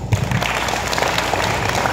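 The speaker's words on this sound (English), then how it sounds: "let us give a round of applause to our hard-working grade 10 advisors" Dense, continuous applause from a crowd at a school moving-up ceremony fills the room, even and sustained throughout.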